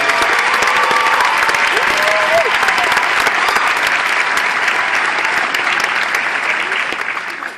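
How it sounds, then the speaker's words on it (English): Loud, dense applause from a large audience at the Riddick world premiere in Regency Westwood Village, sustained and steady with a few cheers and whistles, tapering slightly at the end. "They deserve a round of applause, Universal, for being so incredible."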